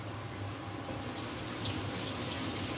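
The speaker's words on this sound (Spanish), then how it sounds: "Yo voy a colar los garbanzos" Water from cooked chickpeas drains through a Thermomix strainer basket as a steady, rushing pour that gushes continuously and fairly quietly, close by with no talking.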